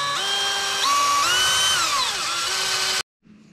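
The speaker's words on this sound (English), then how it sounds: "Let's drill it out to a 1/2 inch and try it again." A power drill whines at high speed for about three seconds while drilling a hole in a flail mower's metal motor cover, its pitch rising and dipping as it bites, then stops abruptly.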